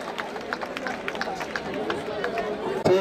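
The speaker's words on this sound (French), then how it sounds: "S'il vous plaît, on les applaudit bien fort." A crowd at a student debate final claps steadily for the second-place team coming up to collect its trophy, dense and fairly close, with voices chattering through it.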